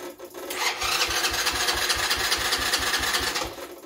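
An ATV engine cranking over on the starter, a steady rapid rhythmic churning that runs for several seconds without catching, close and fairly loud.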